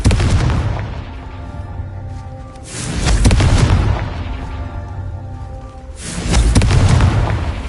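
Fiery Confringo blast spells from the Hogwarts Legacy video game, two loud booming explosions a few seconds apart with rumbling decay between them, and no talking.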